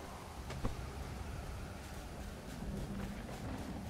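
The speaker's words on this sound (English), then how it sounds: "Storm is finally dying off." A thunderstorm dying off in the survival game Stranded Deep: steady, dense rain-and-wind hiss with a low rumbling undertone throughout, no voices.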